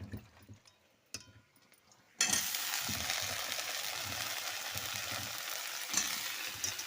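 Potatoes and pointed gourd drop into hot oil with fried onion, then a loud steady sizzle of frying starts after a quieter start and carries on without pause.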